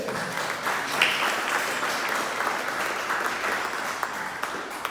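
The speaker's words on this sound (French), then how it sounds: "On peut les applaudir, s'il vous plaît?" An audience applauds a family with dense, continuous clapping that stays even and moderately loud for several seconds, with a few sharper claps breaking through.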